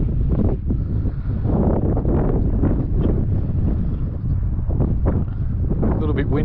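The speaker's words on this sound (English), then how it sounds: "A little bit windy today." Wind gusts outdoors on a chilly day, buffeting the microphone with a loud, continuous low rumble and rushing that swells and eases in waves.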